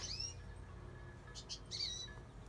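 Birds singing outside near a back porch, high chirps and tweets in a few short bursts, faint and distant over a low steady background hum.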